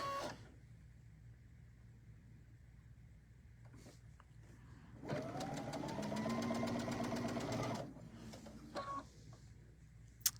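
A sewing machine stitches diagonally across a quilted tabletop banner, a loud rapid mechanical whir lasting a few seconds between quieter handling noises, with no speech.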